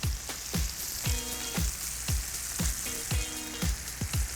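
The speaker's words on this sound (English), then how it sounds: "And right in this pan, we're gonna toss these mushrooms in." Mushrooms and onion sizzle steadily in a cast iron pan that held a steak, under a rhythmic series of sharp scraping strokes as they are stirred. The pan is close, and no one speaks.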